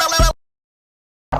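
A robot gives a short, loud, buzzy electronic burst that drops into complete silence, then a second burst cuts in at the end.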